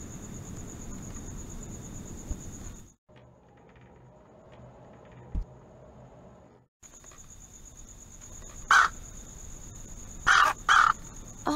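A crow caws on a roof in the Anna's Quest video game, giving a few loud, harsh caws in the second half over a constant chirring of crickets, after a quieter stretch.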